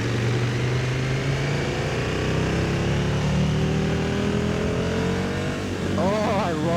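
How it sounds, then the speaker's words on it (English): Engine of a 2024 KTM 1290 Super Duke GT motorcycle on the road. It gives a loud, steady, close drone whose pitch climbs gradually, with a brief wavering surge near the end. "Oh, I love the sound of this thing. This thing sounds so good."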